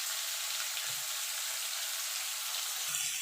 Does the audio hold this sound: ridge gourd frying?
yes